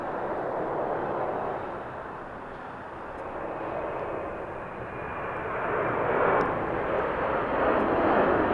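A fixed-wing airliner arrives on runway 25 left at Los Angeles International Airport, its engines producing a steady, broad roar that swells louder toward the end as it passes close, with no talk.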